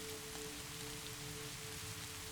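Steady rain falls on a porch roof with dense, even patter and hiss throughout, moderately soft and continuous with no voices.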